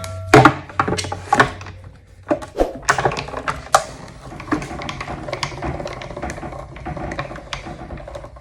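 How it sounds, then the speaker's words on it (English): Cardstock cranked between cutting plates through a Go Cut and Emboss die-cutting machine, giving a run of clicking, thunking mechanical knocks and ratchety rattles, close and fairly loud, with no talking. "run it through my Go Cut and Emboss machine"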